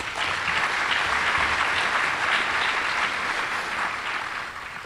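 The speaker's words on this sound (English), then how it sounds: "So another round of applause for those folks." A room of attendees at a regional business awards ceremony applauds, with dense, sustained clapping from a sizable crowd that stays loud throughout and tapers only slightly at the end.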